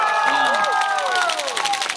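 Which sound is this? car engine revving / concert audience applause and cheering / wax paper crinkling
concert audience applause and cheering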